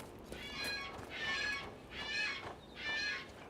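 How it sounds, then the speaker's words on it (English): Tropical birds in the fantasy video game Dragon Age: Inquisition give three or four bright, warbling calls in regular bursts of about half a second, each clear and moderately loud over faint ambient background. "Whoa, there's like tropical birds."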